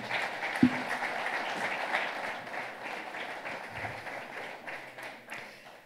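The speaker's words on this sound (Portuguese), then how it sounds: "Se calhar nós vamos guardar as palmas para o fim" An audience at a book presentation applauds in a steady patter of many hands that gradually thins and fades toward the end, with one sharp knock near the start.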